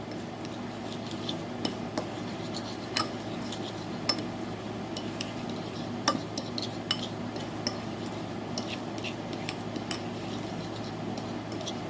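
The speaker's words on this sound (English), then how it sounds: "Let's give that a stir." A spoon keeps stirring a holiday side dish with a dash of mustard just added, sending light metal clinks and taps against the bowl or pan over a low steady hum, close, with no talk.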